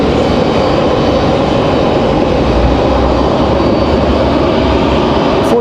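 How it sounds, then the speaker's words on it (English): A United airliner arriving at Raleigh-Durham from Washington Dulles gives a loud, steady low engine rumble that holds evenly across the whole stretch with no break. "this first arrival here out of the last 2. United at 1206 from Washington, D.C."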